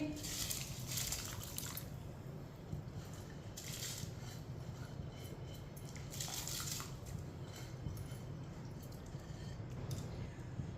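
Soaked rice tipped into a pot of boiling water while making jaggery sweet rice, giving a steady, close bubbling and watery churn that runs unbroken throughout.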